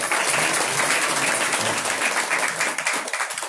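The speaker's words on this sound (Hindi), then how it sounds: "हर एक के लिए ताली बजाओ।" An audience at a devotional gathering claps together in a continuous, dense burst of applause, loud and sustained for a few seconds without speech.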